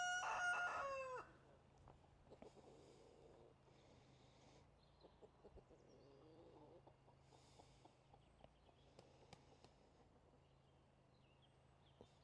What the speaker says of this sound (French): c'est lui le coq qui gueule tout le temps là-bas?